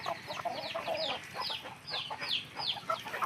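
A Black Java chicken, a high-flying male of around 4.5 kg, clucks and chirps in a run of short, fairly soft calls on a farm, heard alone without speech.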